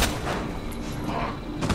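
Gunfire at a zombie in the Resident Evil 2 remake, playing as Leon: two sharp, punchy shots, one at the start and one at the end, over a dull game ambience.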